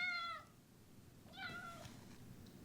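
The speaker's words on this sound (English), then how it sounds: "That must be the cat." Two short cat meows, separated by a pause, fairly close and clear over a quiet background.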